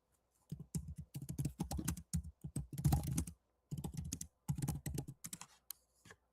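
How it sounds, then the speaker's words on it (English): Rapid bursts of typing on a computer keyboard, entering text into a search field, come in irregular clusters of clicky keystrokes with short pauses between runs, close and clear with no talking. "let me type in"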